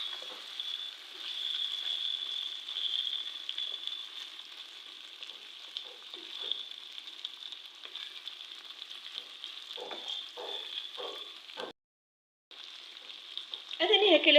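Cabbage fries in a pan for a Kabyle tajine, giving a steady close sizzle with scattered stirring clatters, a brief silent break, then louder sizzling at the end.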